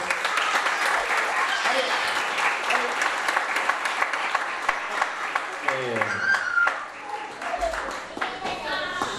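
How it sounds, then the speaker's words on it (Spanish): Strong applause at a social club recital, a crowd clapping steadily and loudly while voices talk over it, with a brief musical tone near the end. "Le vamos a dar nosotros un fuerte aplauso a ustedes"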